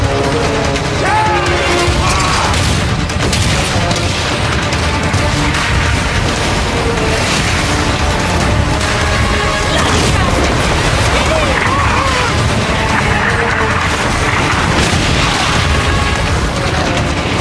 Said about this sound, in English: The enemy strikes first. The first ship goes down, breaking your formation.